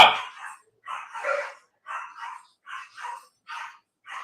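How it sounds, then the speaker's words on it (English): Several dogs bark indoors in a quick series of short, clipped barks, about eight in a row at a fairly even rhythm, near and moderately loud with silence between. "My dogs are barking."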